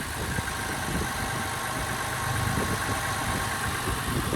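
A 1998 Ford Contour SVT engine idling at a steady, quiet, even hum, close by and alone with no voices, holding a constant level throughout.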